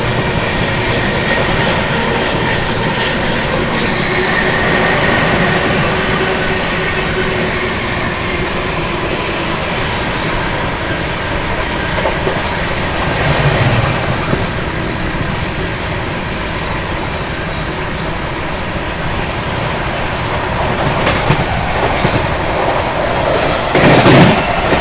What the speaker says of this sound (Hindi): चलिए दोस्तों, ट्रेन अपनी अराइव कर रही है मुरादाबाद।